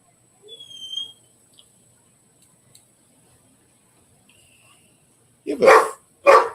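Two loud, close dog barks arrive one after another near the end, after a long stretch of near silence broken only by faint tones and clicks.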